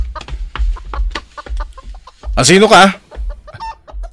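Chickens cluck and a rooster squawks loudly nearby, mixed with short bursts of people talking.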